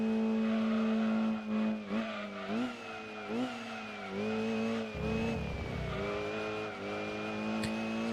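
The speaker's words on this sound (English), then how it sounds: "Good old GT2 screeching sounds" Tires squeal and skid from a Mazda RX-7 in the Gran Turismo 2 racing game, with engine tones rising and falling beneath a continuous, loud screech lasting several seconds.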